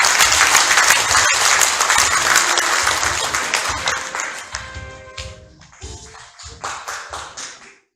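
An audience at a White Cane Day commemoration ceremony gives loud, sustained applause that gradually thins into scattered individual claps before fading out.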